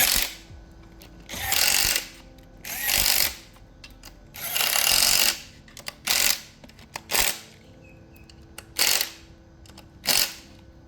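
A power tool drives bolts down on the water pump housing of a 90hp Mercury two-stroke outboard in short whirring bursts, about eight separate runs with quiet gaps between them, close and loud.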